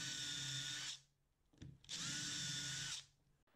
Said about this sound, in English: pre-drill your screw holes.